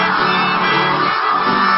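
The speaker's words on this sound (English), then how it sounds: "then the whole crowd shouting, let's go Pens." A large concert crowd chants and shouts "let's go Pens" together, a dense, loud and continuous roar of many voices filling the space.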